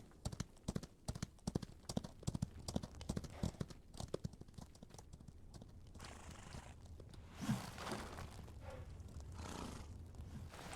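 Horses' hooves clip-clop on a horse ranch in the Outlaws of the Old West video game, a quick run of close hoof strikes that gives way to softer rustling, a snort and a faint whinny.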